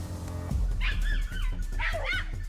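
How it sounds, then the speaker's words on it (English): A hound barks frantically in a forest, several sharp close barks and yelps in quick succession. "The moment the hound's frantic barking erupted, Leon immediately rushed forward."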